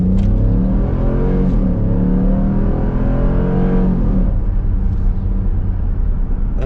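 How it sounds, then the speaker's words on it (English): Throaty V8 engine in a performance-oriented family car accelerating hard, a loud continuous low rumble with the pitch sweeping up through gear changes, heard from inside with no talking. "That throaty V8 sound, man."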